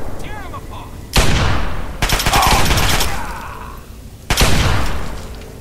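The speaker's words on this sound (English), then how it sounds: "That fucking submachine gun better stop." Submachine gun fire in the video game Fallout 3 comes as loud, close bursts of rapid shots, three separate volleys with short gaps between them.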